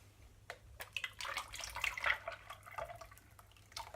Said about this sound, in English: just pour some of this off, because I want to do a swirl